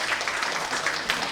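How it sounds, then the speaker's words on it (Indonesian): Audience applause at the closing of a Sundanese dance revitalization workshop, a brief burst of many hands clapping in a room, dense and fairly close, with uneven individual claps standing out. "Tepuk tangan dulu dong sekali lagi"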